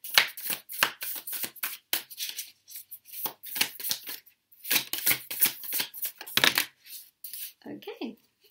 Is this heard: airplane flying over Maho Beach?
no